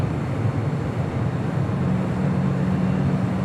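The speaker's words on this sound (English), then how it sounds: "MD-11 with Western Global." Western Global MD-11 jet at LAX, a steady, low, distant engine rumble that stays even and unbroken for a few seconds.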